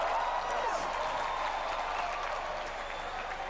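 A stadium crowd at a Muay Thai fight in Kuala Lumpur, Malaysia, applauds steadily and loudly, dense clapping that continues throughout and eases slightly toward the end.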